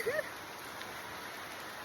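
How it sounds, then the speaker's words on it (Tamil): Heavy rain pours steadily outdoors, a dense, even hiss close around, with a brief faint voice-like sound at the very start. "மழை அடிச்சு ஹெவியா ஊத்துது. உங்களுக்கு தெரியுதா? சத்தம் கேக்குதா?"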